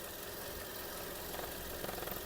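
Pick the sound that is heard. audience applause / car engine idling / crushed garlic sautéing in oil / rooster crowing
car engine idling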